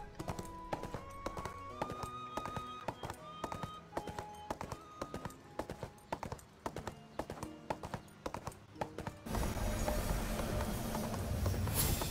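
Steady rhythmic clip-clop of horse hooves in the video game ArcheAge runs alongside light game music and chime tones, then gives way to a rushing broadband noise near the end.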